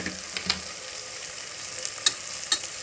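Bell peppers fry in oil in a pan for a home pulao, giving a soft, low sizzle broken by a few sharp clinks and scrapes of stirring, with no voices.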